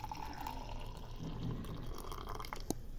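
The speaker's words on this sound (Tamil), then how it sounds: "இப்போ இதில் நான் ஊற்றி காட்டுறேன் எந்த அளவுக்கு வந்துக்குது பாருங்கள்" Guava leaf and fenugreek tea poured steadily into a large glass, a soft continuous liquid trickle and splash close by, running unbroken with no talking.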